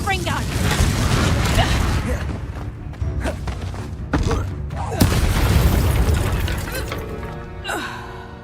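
A Confringo explosive spell goes off in Hogwarts Legacy, with loud booming blasts, thuds and shattering debris over a dense, continuous game soundscape, and a voice speaks over it.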